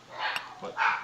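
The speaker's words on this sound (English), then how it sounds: "sorry if you can hear the dogs barking." Dogs bark outside a house, a few muffled yelps heard at a distance beneath a voice.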